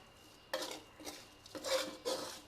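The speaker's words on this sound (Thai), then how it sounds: "คั่วไปเลยค่ะ เพราะว่าพริกแกงเราก็ผัดจนสุกแล้วอะเนาะ" Crispy fluffy catfish is tossed with chili curry paste in a pan, making four rhythmic scraping strokes of a utensil against the metal over a faint background sizzle, close and without speech.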